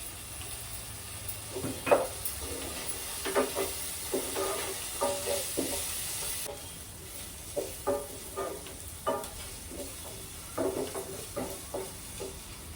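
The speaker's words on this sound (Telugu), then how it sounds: "ఇప్పుడు అల్లం వెల్లుల్లి వేసేసుకుందామండి" Ginger and garlic fry in a pan for palak paneer rice: a faint sizzle under irregular utensil scrapes and taps, with quieter stretches between stirs.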